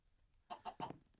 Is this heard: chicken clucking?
yes